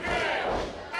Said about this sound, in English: this crowd showing their love for Kathleen